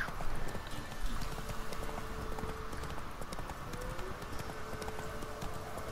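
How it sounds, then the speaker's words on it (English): Rapid, steady hoofbeats clatter continuously, a horse running at speed over a dense, busy background, in The Witcher 3: Wild Hunt video game. "why am I running? I have a horse."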